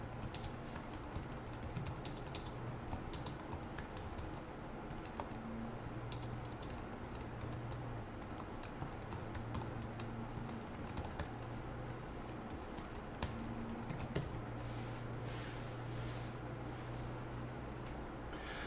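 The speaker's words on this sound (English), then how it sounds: "So go ahead and follow along with me as I type" Code is typed on a computer keyboard in a steady stream of soft, quick clicks and key taps over a faint low hum, continuous and close with no talking.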